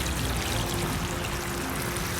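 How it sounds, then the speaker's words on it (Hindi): Water from a thorough watering is poured onto freshly planted strawberry seedlings in a pot, a steady splashing, gurgling pour that stays constant throughout, close and alone. "अब हम इसको एक बार थॉरो वाटरिंग कर देंगे"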